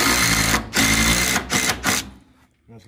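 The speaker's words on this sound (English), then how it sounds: "you screw those through the panel, into the top hat, and into the stud behind it." A power screwdriver drives screws through a 50 mm AAC panel into metal top-hat battens, giving three loud whirring bursts with short pauses between them, followed by quieter handling noise.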